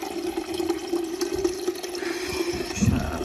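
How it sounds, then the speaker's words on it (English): Water runs from a tap into a jug in a kitchen with a steady pouring hiss, and a short gurgle and splash come near the end. "I got to fill my jug up"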